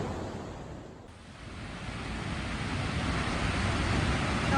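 Snoqualmie Falls pours with a steady, broadband roar from a scenic viewpoint on an early morning, continuous and fairly loud with a brief dip before swelling again, no voices present.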